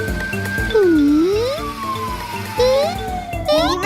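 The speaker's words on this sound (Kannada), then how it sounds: "ಮೊದ್ಲು ಆಂಬ್ಯುಲೆನ್ಸ್ ಕರಿಬೇಕು" Cartoon ambulance siren, a loud wailing tone that rises and falls in sweeping glides, repeating through the clip over a busy animated soundtrack and close to the listener.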